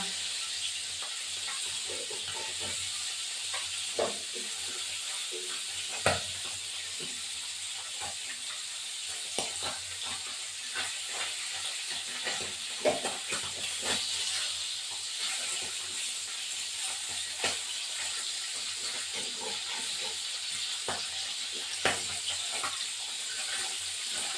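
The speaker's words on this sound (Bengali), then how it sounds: "এটা ফাটছে তো মাছটাকে এবার উল্টাবো" Tengra catfish fries in a pan with a constant, close sizzle and scattered crackling pops throughout, with no talking.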